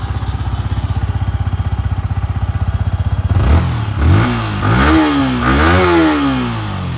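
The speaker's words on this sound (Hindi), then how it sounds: "एग्जॉस्ट का नोट मैग पर आपको जरूर सुनाना चाहूँगा। चलिए एक बार इसको स्टार्ट करते हैं।" A Yamaha R15M motorcycle with a loud, close exhaust: a steady rapid idle putter, then the engine is revved several times, rising and falling in sharp swells.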